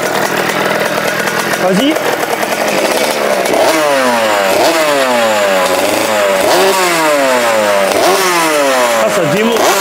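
A 2021 Fantic XM motorcycle engine revs hard and repeatedly up close, its loud, raspy pitch rising and falling in quick blips, with a voice briefly speaking.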